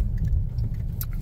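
Steady low rumble of a car moving through heavy, congested traffic, a continuous close engine and road drone with a few faint clicks and jingles on top, no voices.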